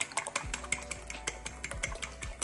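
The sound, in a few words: beating eggs in a bowl for egg drop soup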